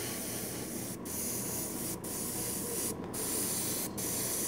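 An aerosol spray can lays clear coat onto a Gunpla plastic model kit, a steady close hiss in four bursts of about a second each, separated by brief pauses.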